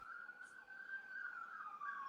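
An emergency vehicle siren wails steadily throughout, with a slow rising and falling pitch, fairly close and continuous with no pauses.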